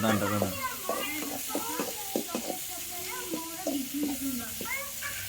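Green chillies and curry leaves stir-fried in a pan, a steady sizzle running under repeated scraping strokes of a spoon, with voices talking over the cooking throughout.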